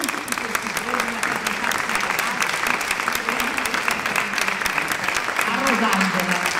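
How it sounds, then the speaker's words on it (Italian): Audience applause at a gala opera concert for finalists of an international singing competition: a sustained, moderately loud crowd clapping in a hall, with a voice speaking faintly beneath it. "un grande applauso a lei che ci ha assistito tutti questi giorni"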